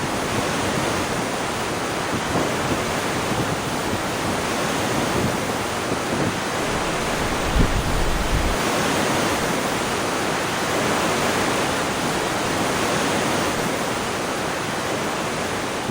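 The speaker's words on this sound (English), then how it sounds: "The water from Loch Mealt plunges 55 metres down to the ocean." Kilt Rock waterfall on Skye, fed by Loch Mealt, pours 55 metres down to the ocean as a steady, dense roar of rushing water, continuous and loud throughout, with no voices.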